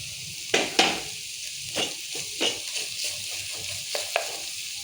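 Crushed onion and green chilli fry in a pan with ginger and garlic while a spoon stirs them. A steady sizzle runs underneath, broken by a series of distinct scraping strokes, with no talking.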